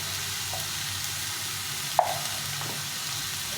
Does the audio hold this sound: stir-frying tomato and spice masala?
yes